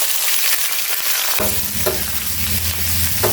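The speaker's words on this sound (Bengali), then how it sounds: "তেল দিয়ে দিলাম এখন দিয়ে দেব পেঁয়াজ আর কাঁচামরিচ" Onions and green chillies hit hot oil in a pan, bursting into loud, steady sizzling and frying with occasional scraping stirs, close and continuous with no talk.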